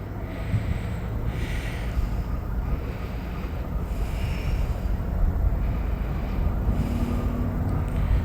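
A Norfolk Southern train rolls past, giving a broad, steady rumble and wind-like roar that holds for several seconds with no one speaking.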